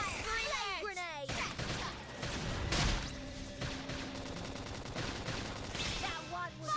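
Rapid bursts of gunfire in the Xenoblade Chronicles X video game, dense overlapping shots and impacts over a running battle soundscape, loud and continuous, with game voices calling out over them.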